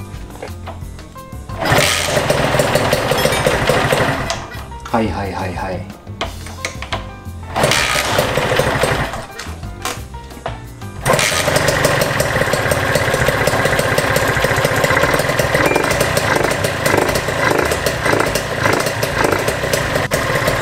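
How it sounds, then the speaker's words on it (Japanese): An NS50F motorcycle engine with a free throttle cable cranks in a few short bursts, then catches and settles into a steady buzzing idle. Someone speaks briefly during the starting attempts. "この状態でエンジンをかけてみましょうか。"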